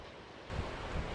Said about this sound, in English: Here's the water's edge in Schlendi where I made the sketch